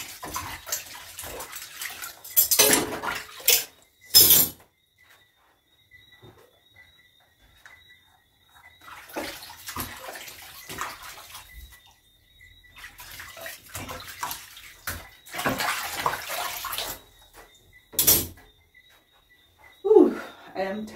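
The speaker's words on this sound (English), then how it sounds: "in the middle of the washing of dishes" Dishes being washed in a sink, with bursts of running and splashing water coming and going in several separate spells, under intermittent talk.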